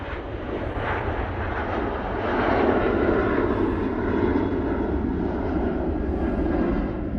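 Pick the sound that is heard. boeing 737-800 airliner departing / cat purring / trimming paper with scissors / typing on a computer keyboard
boeing 737-800 airliner departing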